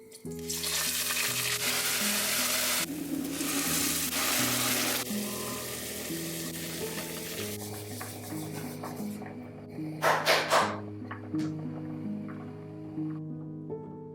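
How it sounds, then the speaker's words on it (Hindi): Steady sizzling of kidney beans tempering in a hot pan, loud at first and then settling lower, with a brief stirring clatter partway through. "राजमा को अच्छे से तड़का लगा दिया"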